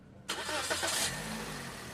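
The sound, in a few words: car engine starting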